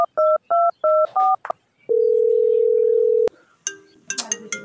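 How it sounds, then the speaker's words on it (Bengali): Telephone keypad tones beep in a quick series of four or five, then a long steady dial-type tone holds for over a second before cutting off, followed by ringing electronic phone tones; close and loud. "ফোন দিতেছি।"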